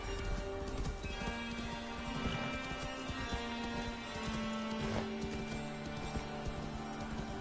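Horse hooves clip-clop steadily in Assassin's Creed Valhalla, a continuous rhythmic trot under a droning in-game music bed.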